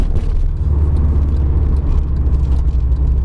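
Loud, close engine rumble of a Subaru fitted with a Gruppe S unequal-length header and Invidia N1 exhaust, pulling hard under heavy throttle onto a freeway, a deep steady drone throughout.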